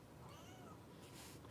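Foster kitten meowing close by, a few soft cries spread over a quiet indoor background.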